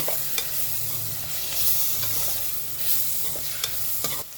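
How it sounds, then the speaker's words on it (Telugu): Ginger garlic paste for capsicum masala curry fries in a pan with a close, continuous sizzle, punctuated by a few sharp clicks and scrapes of a spoon stirring it; no one speaks. "ఇప్పుడు ఇది బాగా ఫ్రై చేసుకోవాలి"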